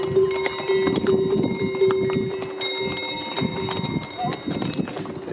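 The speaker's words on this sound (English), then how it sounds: "These are our horses." Horse hooves clop in an uneven, steady rhythm on hard ground along a Markha Valley trekking trail, with a bell jingling along and soft chatter mixed in.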